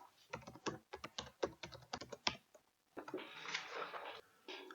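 A computer keyboard clicks as a username and password are typed, with quick bursts of keystrokes close to the mic, a pause, then softer rustling taps.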